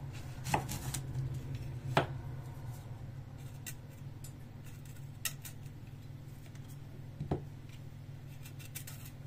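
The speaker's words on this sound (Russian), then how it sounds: "Теперь нарезаем грушу." A knife cuts through a pear on a board, giving a few faint, sparse crisp taps and slicing clicks over a low steady background hum.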